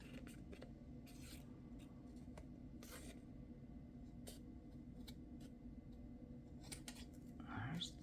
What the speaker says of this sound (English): It's a hefty amount of work for my scissors.